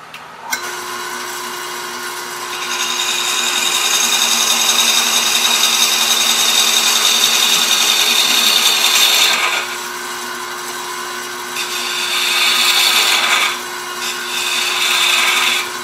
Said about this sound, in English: So we're going to go back to that box scraper.